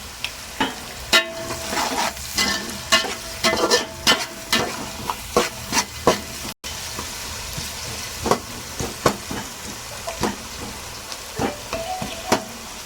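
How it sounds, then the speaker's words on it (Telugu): Chopped onions hiss and sizzle steadily in a pan of hot oil for veg pulao. A spoon scrapes and stirs them again and again at an uneven rhythm, with sharp clicks against the pan. There is no talking. "ఆనియన్స్ బాగా బ్రౌన్ కలర్ వచ్చే వరకు వేగనివ్వాలి, ఒక 5 మినిట్స్ వరకు."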